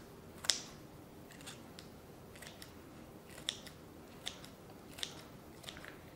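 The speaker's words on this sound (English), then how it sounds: "I'm just going to go ahead and cut these with kitchen shears" Kitchen shears snip through raw chicken for a hot-smoked barbecue, giving about five sharp, separate cuts spaced across a quiet room.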